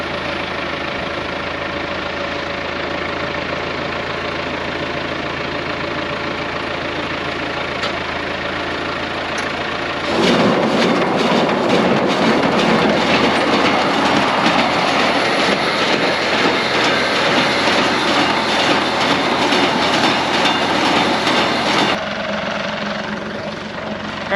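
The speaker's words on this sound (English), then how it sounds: "the 574 is making a weird knocking noise sound when the PTO is engaged" Tractor labelled 574, running with its PTO engaged and making a knocking fault. It idles steadily at first, then a louder, harsher engine stretch with a fast rhythmic knock runs for about twelve seconds before dropping back to idle.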